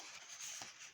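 Craft knife drawn along a cut groove in card to finish a box corner, a brief soft scraping rasp heard close and alone.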